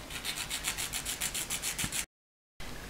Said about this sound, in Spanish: Lijamos hasta la línea que hemos hecho.